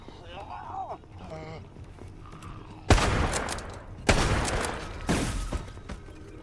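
Grenade launcher shots in the video game Resident Evil Resistance: three loud, booming blasts with crackling tails follow one another about a second apart, after a stretch of quieter game sounds and a voice.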